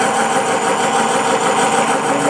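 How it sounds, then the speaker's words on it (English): The motor of a Vevor mini lathe gives a loud, close, continuous whirring hum at a steady pitch, with no speech. "We're going to turn the motor speed up just a little bit."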